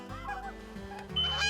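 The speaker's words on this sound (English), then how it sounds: "geese flying around" Geese honk overhead while flying above a wooden hunting blind during a Minnesota goose hunt, a cluster of nasal calls swelling louder near the end of the short stretch, with no talk.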